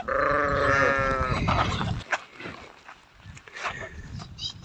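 A sheep lets out one long, wavering bleat up close, followed by quieter shuffling and rustling sounds.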